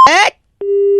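A phone call ends with a brief burst of voice, a short silence, then a steady, unbroken disconnect tone that holds loud and clear until the end.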